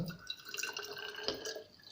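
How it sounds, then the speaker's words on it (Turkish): Water is poured into a container during a home buoyancy experiment with a pen, making a brief trickling, splashing sound with small drips and bubbles, fairly close and alone. "Kabın içine suyu döküyorsun."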